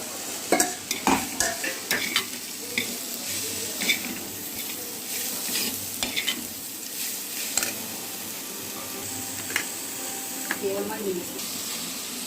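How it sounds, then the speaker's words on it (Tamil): Tomatoes sizzle steadily in a hot pan while a utensil stirs and scrapes, with occasional clinks and a voice speaking over it. "தக்காளி போட்டுங்க. தக்காளி நல்லா வதங்கணும்."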